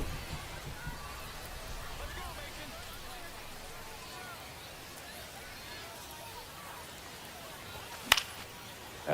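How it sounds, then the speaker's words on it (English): Steady rain falling on a ballpark in the baseball video game MLB The Show 25, a soft continuous hiss with a faint crowd murmur underneath and a sharp crack near the end. "This rain is not letting up."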